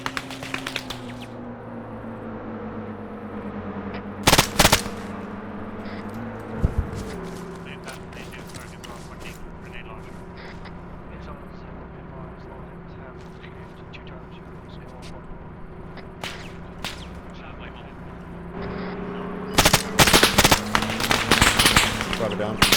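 Heavy DShK machine gun fire in Arma 3 during a night operation on a road, with loud, sharp bursts of rapid shots near the start and again toward the end, while voices talk over a steady engine hum in between.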